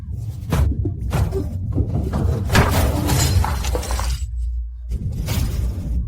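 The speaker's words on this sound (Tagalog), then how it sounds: "nabasag mo ang jade na bigay ni Dakilang Pinuno" A jade object shatters, giving a loud crash followed by scattered breaking and clattering fragments, with several sharp impacts spread over the next few seconds.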